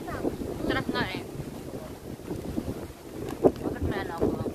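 Gusty wind buffets the microphone with a low, rushing roar at Al Seef, Dubai, while people talk over it, near and fairly loud.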